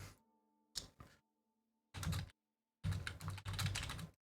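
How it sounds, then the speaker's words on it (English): Computer keyboard typing: a few quick key clicks, then longer bursts of rapid clattering keystrokes, close and fairly quiet. "Oh, we had the typing. You hear that, guys?"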